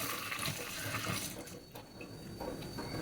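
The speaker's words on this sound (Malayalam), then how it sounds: "ഞാൻ ഇതിനകത്ത് ഉരുളി വെച്ചിട്ട് വെള്ളം എടുത്തുകൊണ്ട് ഒഴിച്ച് കളയാൻ വെച്ചാൽ" Water pours out of an urali, a traditional cooking vessel, at a kitchen sink, making a continuous splashing, gurgling stream for the whole stretch with no talking.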